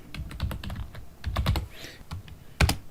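Someone types a file name on a computer keyboard: a close, clear patter of key clicks with short pauses, ending in two sharper, louder strokes.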